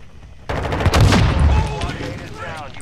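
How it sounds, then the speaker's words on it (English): RGL grenade launcher firing in a video game, a sudden burst of booming shots and blasts that rolls on for about a second and a half with someone talking over it. "he took two shots to the chest with that grenade launcher, the RGL"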